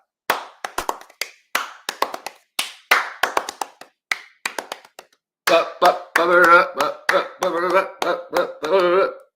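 A run of quick, syncopated hand claps in a reggaeton-style beat, close and crisp, followed by a voice singing or humming along over the rhythm.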